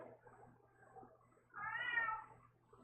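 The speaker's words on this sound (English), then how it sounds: "downstairs meowing at my door" A single drawn-out cat meow at a door downstairs, fairly faint and somewhat muffled as if behind the door, rising over quiet background noise.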